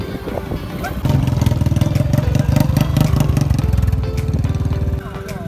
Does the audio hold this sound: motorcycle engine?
yes